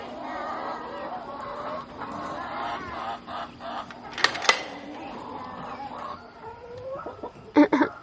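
A lone newly hatched chick cheeping on a small farm, thin chirps that come and go faintly among louder clucking fowl, with a few sharp bursts near the end.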